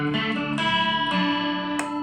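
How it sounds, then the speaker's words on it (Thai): Clean electric guitar notes plucked one after another through a Vox Amplug headphone amp, each ringing with a wavering, shimmering chorus effect, played alone. "อันนี้เป็นเสียงคอรัสนะครับ"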